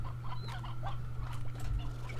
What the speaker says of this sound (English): Gosh darn hen hens, let me collect you.